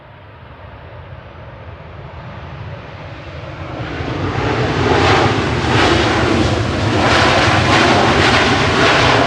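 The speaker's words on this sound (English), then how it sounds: "This will be the Jet2 I mentioned before, JZHL, coming in from Verona with flight 986." A seven-year-old Jet2 Boeing 737-800 arriving from Verona approaches Manchester Airport to land. The engine roar grows steadily louder and nearer into a loud, sustained rushing whine.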